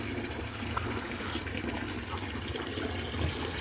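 Water running steadily into a tub to ready a pet's bath, a continuous moderate gush and splash with no break.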